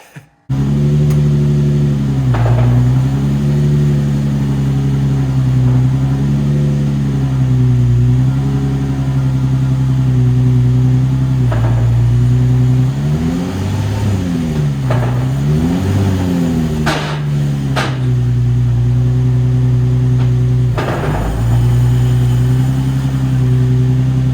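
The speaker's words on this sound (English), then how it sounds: "Now let's fire this thing up and see if that clutch actually works." A salvaged Nissan 350Z drift build's engine cranks, catches and settles into a loud, steady idle with a few blips of revving, heard up close with no talking.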